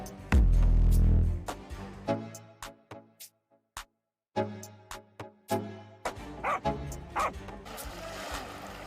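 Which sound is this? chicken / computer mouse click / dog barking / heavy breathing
dog barking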